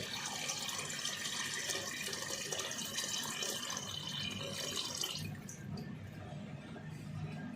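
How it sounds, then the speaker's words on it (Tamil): Water is poured into a pot of boiled chicken masala for a 1 kg chicken biryani, a continuous close splashing rush that runs steadily, then softens and thins slightly near the end. "இப்போ தண்ணி சேர்த்துக்கலாம்."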